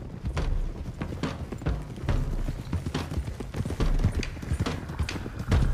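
Several horses gallop together in Red Dead Redemption 2, a busy rhythm of overlapping hoofbeats thudding close and steady under faint background ambience.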